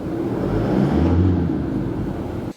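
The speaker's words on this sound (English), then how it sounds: "When I'm revving the car up" Engine of a Mazda BT-50 / Isuzu D-Max ute with a tired battery, revved once and rising in a low rumble before easing back, close and loud, then cutting off.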